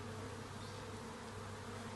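Honey bees swarming around a hive in an apiary, a dense, continuous buzzing that stays steady and close throughout, with no voices.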